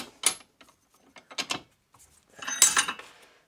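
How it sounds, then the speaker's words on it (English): A half-inch tube set into a workshop vise: a handful of sharp metallic clicks and ratcheting knocks, spaced out and close, ending in a short cluster of rattling contacts as the jaws close on the metal. "then we put the smaller diameter tube, which is 1/2 inch, same as the bigger one, into the vise"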